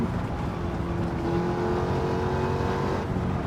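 Eckert's Rod and Custom Mach Forty engine in Gran Turismo 7 at Circuit de La Sarthe, a steady, loud engine drone holding a sustained tone with a slight rise in pitch partway through, continuous and close with no talk.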